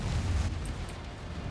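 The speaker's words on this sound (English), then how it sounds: "Although the explosion doesn't help." Explosion in the mech combat game Mechwarrior 5, a deep, loud low rumble that booms at the start and then rolls on as a sustained roar with no talking.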